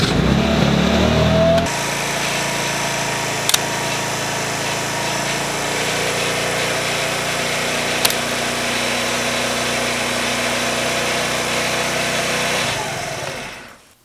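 A Cruze scooter's small engine runs at a steady idle, an even buzzing drone held at constant loudness for about eleven seconds with a couple of sharp clicks, then fading out at the end.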